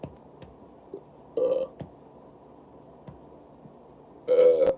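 Two short throaty burps, the second louder and longer, close to the microphone over a quiet room with a few faint clicks and mouth noises.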